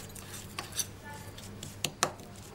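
A spoon stirs a homemade anti-aging face wash powder with a little water in a small bowl, making light scraping ticks and a few sharper clinks against the rim, close up over a hissy background.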